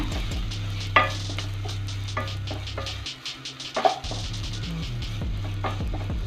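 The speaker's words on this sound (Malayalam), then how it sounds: "പൊടിയൊക്കെ ഇട്ടിട്ട് നന്നായിട്ടൊന്ന് വഴറ്റി കൊടുക്കണം." Spice powders for a chicken curry being sautéed in a pan, a steady sizzle under repeated scraping stirs and light clinks of a spoon against the metal, close and moderately loud.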